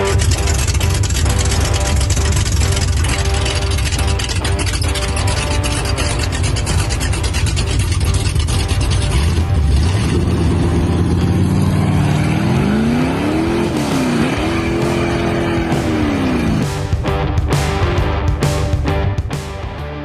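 Loud revving car engines roar continuously, close by, with the pitch rising and falling as the motor accelerates and shifts.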